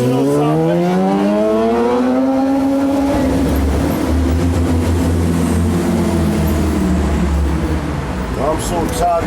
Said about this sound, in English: I'm so tired of these goddamn motorcycles